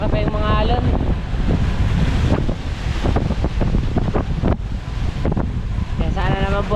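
Strong wind batters the microphone aboard a small outrigger boat in big seas, with heavy rushing gusts and surging waves at close range and a voice breaking in at moments.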